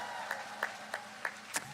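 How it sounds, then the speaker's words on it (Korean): Sparse clapping from an audience at an outdoor political campaign rally in Gangseo-Yangcheon, Seoul, about five distinct claps spaced evenly over a faint crowd background, fairly distant and quiet. "격려의 박수 부탁드립니다"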